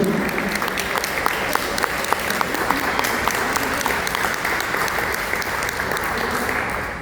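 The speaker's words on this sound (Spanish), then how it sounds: "Un aplauso, por favor." Audience applause in a public library hall after a poet is introduced, steady and fairly loud with crisp individual claps standing out, continuous for several seconds.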